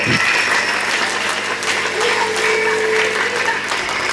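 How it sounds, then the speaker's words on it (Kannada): A crowd of schoolchildren clapping at a school sports meet flag hoisting, dense sustained applause close by with a faint murmur of voices underneath. "ಎಲ್ಲರೂ ಜೋರಾಗಿ ಒಂದ್ಸತಿ ಚಪ್ಪಾಳೆ ಹೊಡಿರಿ"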